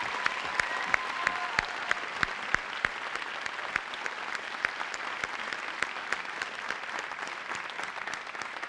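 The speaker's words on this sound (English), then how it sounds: "Please join me in a round of applause in recognition of all of our scholarship and award winners." Audience applause at a high school senior awards ceremony honoring scholarship and award winners: steady, full clapping from a large crowd, with sharp individual claps standing out, sustained evenly for the whole stretch.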